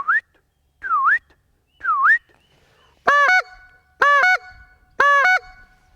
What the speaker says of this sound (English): the speed with which you bring your tongue up dictates the pitch of the top note of the honk